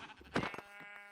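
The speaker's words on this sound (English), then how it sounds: "Oh, sheep." A sheep bleats once in a video game, a single wavering, harmonic cry near the listener and moderately loud, with quieter ambient tones trailing behind it.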